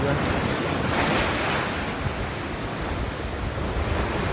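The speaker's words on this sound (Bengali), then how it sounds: "দেখা যাক ডেউটো আসে নাকি" Sea waves surge and wash onto Digha beach, a loud continuous roar of surf blended with strong wind buffeting the microphone, with no talking.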